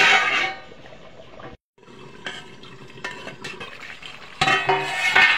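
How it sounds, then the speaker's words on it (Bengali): Chicken curry being stirred in a pot, with scraping and clinking of a spoon against the metal in uneven bursts, a brief silent gap, then louder clatter near the end. "একটু নাড়িয়ে দেবো মাংসটা"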